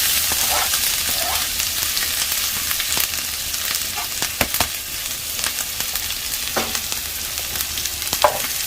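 Garlic and ginger fry in hot oil, a loud, continuous sizzle close up with occasional scrapes and stirring clicks throughout.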